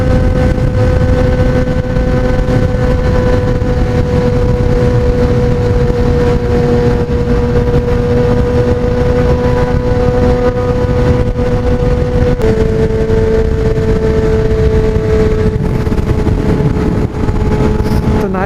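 A Yamaha R1 motorcycle engine runs loud and close in a steady, droning idle with a clear tonal hum that shifts slightly in pitch partway through, with no voices over it.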